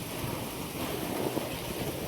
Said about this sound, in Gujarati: માહોલ ગરમ થઈ ગયો છે વરસાદનો